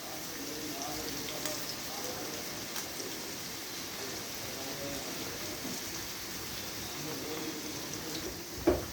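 Chopped onion and garlic fry in a pan with a steady, even sizzle and crackle that holds at a moderate level all the way through. A short clatter comes near the end.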